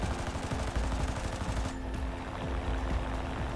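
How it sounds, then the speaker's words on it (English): Aircraft strafing gunfire in War Thunder, a dense rapid machine-gun rattle under steady engine roar, continuous and loud for the first half before thinning out. "A little strafing in there, we cause some damage"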